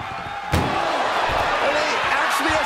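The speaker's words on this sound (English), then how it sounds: "Trying to force the first door closed" Ambulance door forced shut during a wrestling match, a sharp loud slam near the start followed by a few duller thuds and bangs, all under excited commentary and crowd noise.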